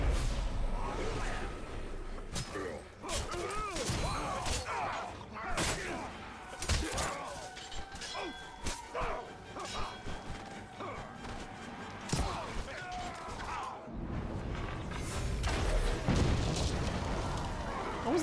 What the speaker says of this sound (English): I was trying to do might to make the Grog Barrel explosion bigger